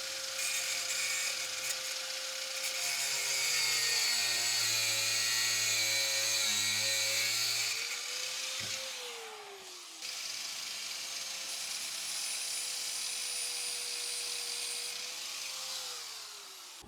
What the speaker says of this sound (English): Nothing like a bit of angle grinder care to fix things.